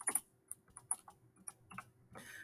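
Keystrokes on a computer keyboard typing a short phrase, a quiet, irregular run of light clicks with small pauses between bursts, close and alone.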